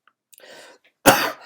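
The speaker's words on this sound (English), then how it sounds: "still suffering from a cough." A soft breathy throat noise, then a single sharp, close cough bursts out loudly and trails off.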